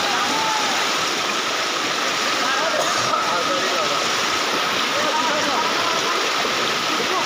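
Floodwater rushes steadily through Joyhing, a dense, continuous wash of churning water that stays loud and unbroken throughout, with no clear voices over it.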